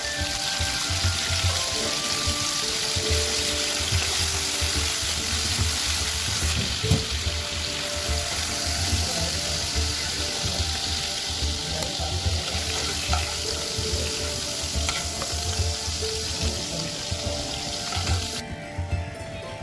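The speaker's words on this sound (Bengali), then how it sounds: "তাই আমি 1 মিনিটের মধ্যেই চিংড়ি মাছগুলো ভেজে উঠিয়ে নেব।" Prawns sizzle steadily in hot oil in a pan for a short quick fry, a loud continuous crackle throughout with occasional clinks and stirring sounds and no voices.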